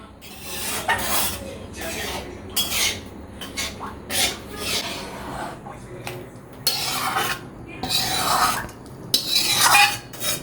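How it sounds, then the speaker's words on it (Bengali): Spice mix being stirred into boiling khichuri in a pot: repeated scraping, rasping strokes of a utensil against the pot in irregular bursts, close and fairly loud, without speech. "এবার আমরা এর ভিতর মশলাটা দিয়ে নেড়ে চেড়ে মিশিয়ে দেব।"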